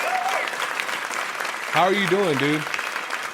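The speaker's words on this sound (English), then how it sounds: "let's give a huge round of applause to my homeboy" Applause from a podcast studio audience, a broad steady clapping wash throughout, with a voice greeting briefly over it midway.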